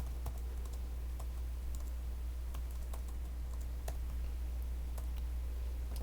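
Typing on a computer keyboard while writing code: a quiet, steady run of scattered key clicks over a low constant hum, with no one speaking.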